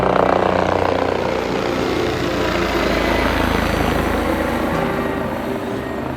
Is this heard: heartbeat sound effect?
no